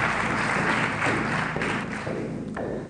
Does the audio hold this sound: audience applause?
yes